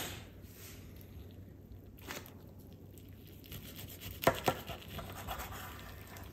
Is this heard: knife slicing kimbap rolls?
yes